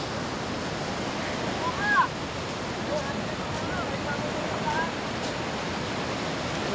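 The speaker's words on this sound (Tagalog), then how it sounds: "Ayan na, lakas ng agos. Pumupunta dito yung yung tubig." Strong river current rushing toward a fishing net, a steady broadband wash of flowing water, loud and continuous, with a brief splash near the two-second mark.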